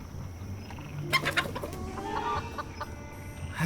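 A chicken in Foolish Mortals clucking in a series of quick, agitated bursts over steady background ambience, moderately close and fairly loud.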